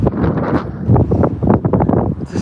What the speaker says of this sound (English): That wind got real disrespectful.